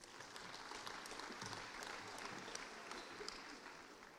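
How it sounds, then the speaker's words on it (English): Audience applauding graduates at a university graduation ceremony, a steady dense wash of clapping that stays even throughout, heard from some distance and fairly soft. "Big round of applause for all our LINC graduates today"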